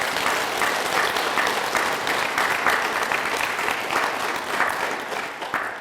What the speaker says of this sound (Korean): 박수 한번 치고 넘어가자고요